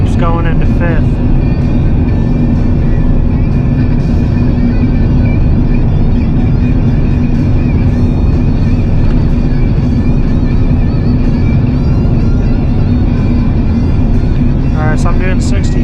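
A 24-year-old 8.1-liter gas V8 truck towing 18,000 pounds on a highway drones loud and steady inside the cab, a continuous low engine and road rumble with someone talking over it.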